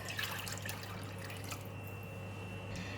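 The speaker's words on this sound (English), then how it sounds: "I'm going to put in the pandan leaf and add in the coconut milk" Coconut milk pouring into a pot with a pandan leaf, a soft steady liquid trickle and splash over low background hum, faint and close, with no voices.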